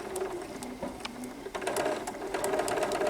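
A sewing machine stitches binding onto a quilt, its steady rapid whirring hum close and continuous, with light clicks of the mechanism running throughout and no talking.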